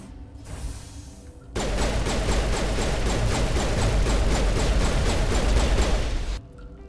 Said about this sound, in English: Shoot you a ton of times in the face.